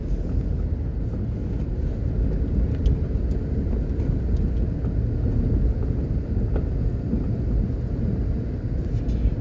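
A car drives along Upper Waterloo Road in Jamaica, heard from inside as a steady low rumble of engine and road noise with faint scattered clicks, no talk.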